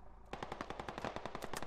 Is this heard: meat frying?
no